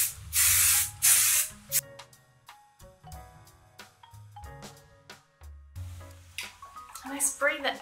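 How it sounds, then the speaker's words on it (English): Hairspray misted onto hair styled in a 1950s Marilyn Monroe look: two loud, sustained hissing bursts at the start, then quieter clicks, rustles and handling sounds, with a few short sprays near the end. "then I take my hairspray again."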